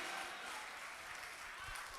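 Audience applause at an international poetry mushaira, a continuous, even wash of clapping from the hall that holds steady throughout without a break.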